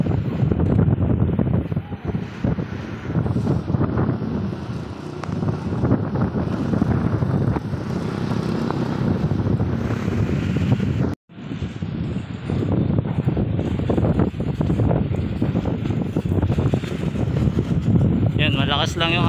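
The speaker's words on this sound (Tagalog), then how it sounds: "Malakas lang yung hangin sa area na to." Strong wind buffets the microphone with a constant low roar at Parqal Mall in Aseana City, Philippines, while people talk over it.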